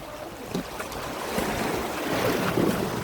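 Sea waves wash and rush steadily, broad and fairly loud, with wind buffeting the microphone and small surges every second or so.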